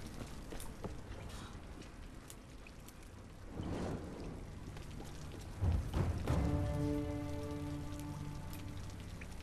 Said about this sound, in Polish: woda, która kapie z dachu.